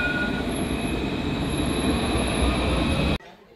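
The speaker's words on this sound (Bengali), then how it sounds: "একেবারে একজোড়া ট্রাম।" A pair of trams passing on a Paris street, a loud continuous rumble of wheels on rail with a high whine, cutting off abruptly near the end.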